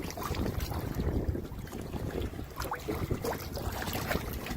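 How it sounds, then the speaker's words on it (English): Gusty wind buffets the microphone on a river while fishing from a boat, a steady rumbling roar with faint water splashes and creaks underneath and no talking. "It's a little windy"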